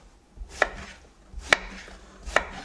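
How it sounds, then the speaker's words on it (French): A knife chops eggplant slices into small pieces on a board, three distinct, evenly spaced cuts sounding close and crisp over a quiet background. "je les découpe de façon à avoir des petits bouts d'aubergine"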